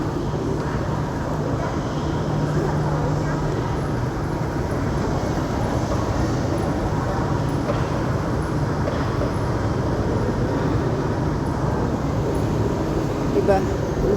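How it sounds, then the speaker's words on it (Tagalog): A Singapore MRT train rumbles past as a broad, steady roar that fills the whole stretch, heard from nearby amid city ambience while a person speaks. "Diyan ka sasakay ng train, MRT."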